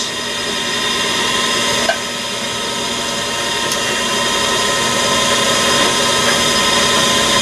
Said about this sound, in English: And now I'll ream it 3 16ths.